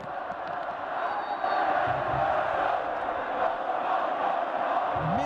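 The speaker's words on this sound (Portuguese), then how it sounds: "torcida do São Paulo tem todo motivo, direito e pode gritar" São Paulo football fans shout and chant in a stadium, a dense crowd roar rising and falling steadily at a distance through the whole stretch.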